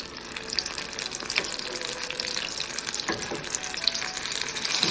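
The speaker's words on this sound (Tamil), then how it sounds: "மீடியம் ஃப்ளேமில் வச்சுட்டு நீங்கள் இதை ஃப்ரை பண்ணிங்கன்னா நல்லாயிருக்கும்" Potato bread rolls fry in oil over a medium flame: a soft, steady crackling hiss with scattered faint pops, fairly quiet and with no voices.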